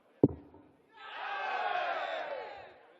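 Darts crowd at the 2018 German Darts Open roaring in a swelling cheer after a sharp thud, the voices rising to a loud mass shout and then fading over about two seconds.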